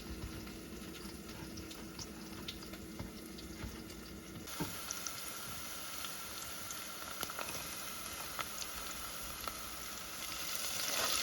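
Freshly chopped ginger and garlic sizzle quietly in a pan while turmeric potatoes are being made, a soft, steady hiss with a few small clicks that swells slightly near the end.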